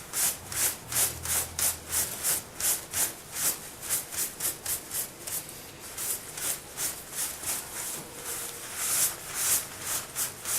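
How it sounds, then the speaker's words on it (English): Steady, rhythmic rubbing as soot is wiped off a surface by hand, with regular back-and-forth strokes repeating evenly and close up, no talking. "I'll rub it off and see what happens."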